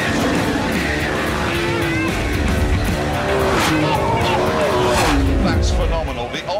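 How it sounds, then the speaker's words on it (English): A car engine revs hard on launch control, its pitch climbing and wavering, loud and close with tire squeal mixed in, while someone talks over it. "Build up the revs."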